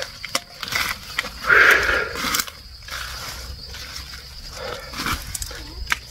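A dog barks in short bursts outdoors on a farm during branch cutting and weeding, fairly close, with rustling and other outdoor noise between the barks.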